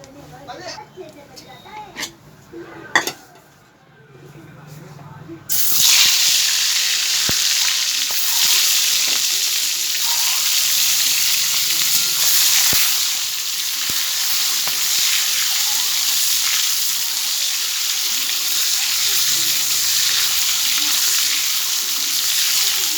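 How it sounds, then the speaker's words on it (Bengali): Oil heating in a wok for Bengali egg curry, a loud continuous sizzle and crackle that starts abruptly after some quiet kitchen clatter and holds steady throughout. "এবার দিয়ে দেবো কড়াইয়ে তেল"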